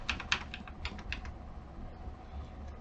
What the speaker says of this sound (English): Or you can use the keyboard